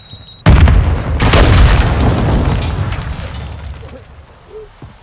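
A Semtex grenade detonates in Call of Duty MW2, a sudden heavy boom that hits hard and close after a short quiet lead-in, then rolls into a long, loud rumbling tail that slowly fades.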